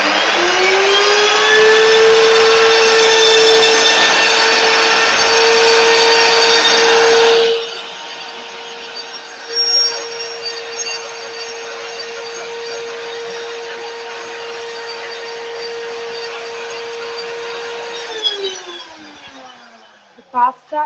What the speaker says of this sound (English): So I'm just scraping down the chickpeas and just giving a last blend.